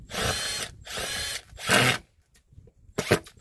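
A power drill drives a large screw into wood to bore a hole, with three loud whirring bursts separated by short pauses and a final brief spin.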